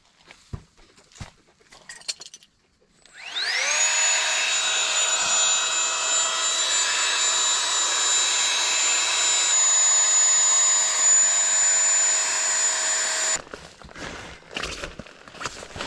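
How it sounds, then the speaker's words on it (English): A small portable air pump inflates camping gear at a solo campsite, starting with a rising whine and then running as a loud, steady high-pitched buzzing drone for about ten seconds before cutting off, with faint rustling before and after. "Got this new little fancy air pump."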